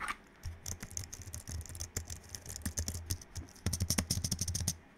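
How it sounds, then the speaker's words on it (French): Rapid typing on a Logitech K470 keyboard: a steady stream of soft, close key clicks that quickens into a denser burst near the end, with no voices. "On se rend compte qu'on est sur un clavier qui est beaucoup plus silencieux"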